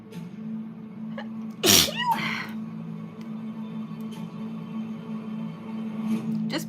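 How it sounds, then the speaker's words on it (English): A single close, loud sneeze from a woman in a quiet room, one sharp burst followed by a short breathy tail, over a steady low hum. "I'm going to sneeze though."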